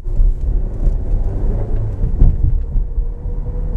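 Road noise inside a Chery Tiggo 7 Pro Max AWD as its tires roll over road slabs: a steady low rumble with rhythmic thumps, loud and continuous, with no talking.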